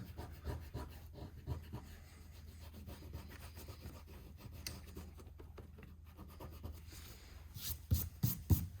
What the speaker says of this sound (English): I'm gonna go across and erase everything else